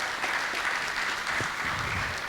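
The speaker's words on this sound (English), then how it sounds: "can you please give a round of applause to the organizers of the" An audience at a legal-practice panel event applauds the organizers, a steady wash of clapping from many hands heard alone for a couple of seconds.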